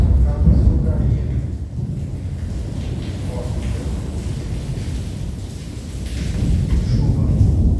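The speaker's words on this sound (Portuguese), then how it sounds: "Chuva." Low, dense rumble of thunder rolling with steady broadband rain, swelling at the start and again near the end, constant throughout with no clear talk.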